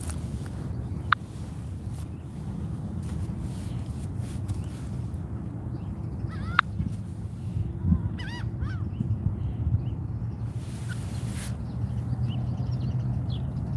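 A flock of geese honks intermittently in the open outdoors, calls scattered and moderately distant over a steady wind-like rumble, with footsteps occasionally audible.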